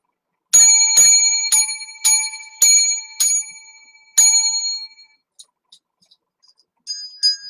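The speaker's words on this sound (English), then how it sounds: "Seven lucky bells for the show." A small bell rung by hand for a live-streamed show, seven bright rapid strikes ringing out one after another with sharp metallic decays, followed by a few fainter ticks and a last pair of rings near the end.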